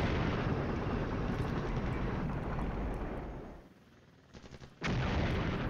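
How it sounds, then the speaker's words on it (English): Anti-tank guided missiles launched in the computer wargame Flashpoint Campaigns: Southern Storm, a loud sustained rumbling roar of launches and blasts that fades into a short lull before another sharp burst, with no voices. "Also launching anti-tank guided missiles against this RATAC TPZ Fuchs."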